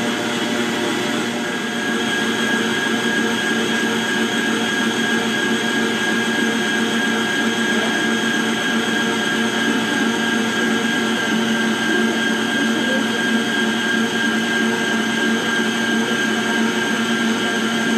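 An electric mixer beats batter for an economical cake, a loud steady whirring drone that carries unbroken from start to finish with no voices.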